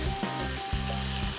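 Zucchini caramelizing in a lidded pan gives a steady, close sizzle and crackle that runs without a break, with a low hum underneath and nobody talking.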